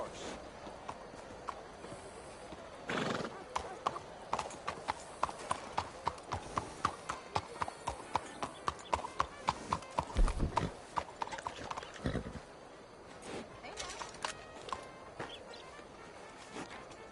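Horse hooves clip-clop steadily at a walk in Red Dead Redemption 2, with a brief whinny partway through, scattered voices and faint birdsong around them.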